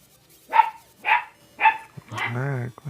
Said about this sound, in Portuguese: Ah, começou a latir do nada.